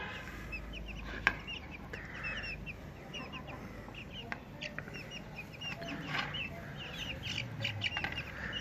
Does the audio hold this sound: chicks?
yes